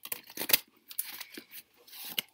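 Tarot cards being shuffled close up, repeated crisp riffling and slapping bursts of papery friction in an irregular rhythm, quiet and alone.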